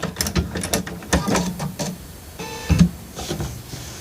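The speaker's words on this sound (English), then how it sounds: "I'll have to sew this pretty slow as well because it's pretty thick" A sewing machine stitching slowly through thick fabric for a baby bath apron, giving short uneven bursts of mechanical whirring and clicking separated by brief pauses, close and fairly loud.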